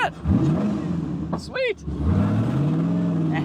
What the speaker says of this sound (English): Just driving my fake Lambo.